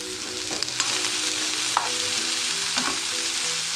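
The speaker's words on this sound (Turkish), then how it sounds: "Ispanağı 1 dakika boyunca kavurduktan sonra" Spinach sautéing with onion and carrot in a pan, a loud, dense sizzle under occasional stirring scrapes, close and continuous with no speech.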